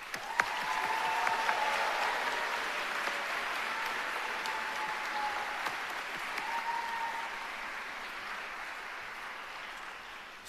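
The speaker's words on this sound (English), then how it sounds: "Please join me in a round of applause for the families and friends joining us today." An audience applauds families and friends at a dental school white coat ceremony, a sustained, even round of clapping from a large crowd that slowly fades out.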